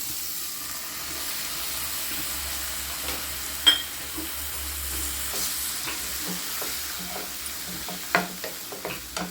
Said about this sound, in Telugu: నానబెట్టుకున్న చింతపండు కూడా వేసుకోవాలి